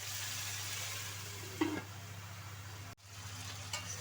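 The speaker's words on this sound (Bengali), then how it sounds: "ঢাকনা দিয়ে কিন্তু ভেজে নেব" Raw banana, beans, carrot and potato fry under a lid for shukto, giving a steady soft sizzle throughout with a couple of faint knocks, low and continuous with no talk.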